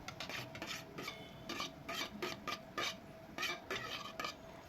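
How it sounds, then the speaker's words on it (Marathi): Mashed potatoes with spices being stirred and sautéed in a pan for aloo bharit, heard as soft repeated scraping and shuffling strokes of a spoon, fairly quiet and steady throughout. "छान परतून या सर्वांना मिक्स करून घ्यायचं आहे"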